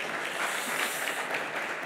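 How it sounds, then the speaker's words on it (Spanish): Audience at a hotel technology security conference applauds a speaker, a soft, even patter of clapping from a room of listeners. "Un aplauso para él, por favor."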